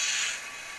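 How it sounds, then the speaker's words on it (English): A Digitrax SDH164D sound decoder in a Southern SD35 model locomotive plays its standard uncoupler effect, a brief, close, airy hiss with a faint mechanical creak that fades within a second. "Standard uncoupler."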